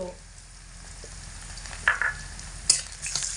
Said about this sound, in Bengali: এগুলোকে আবারও এক মিনিট মতো নাড়াচাড়া করে নেবো